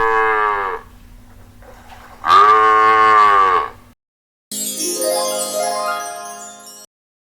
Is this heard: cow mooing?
yes